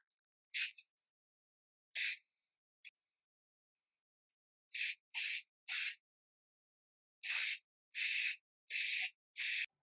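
Short hissing bursts from an aerosol spray can applying gloss black paint to the front emblem of a BYD Sealion 6, about ten separate sprays coming close and loud in irregular clusters with silent gaps between, no talking.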